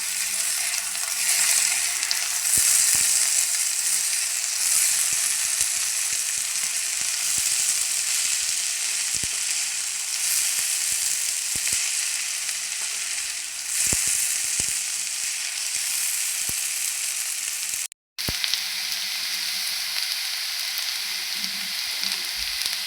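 Potatoes for aloo bhaji frying in a pan, a steady loud sizzle that runs unbroken for a long stretch with occasional scraping and stirring clicks, briefly cut out once near the end.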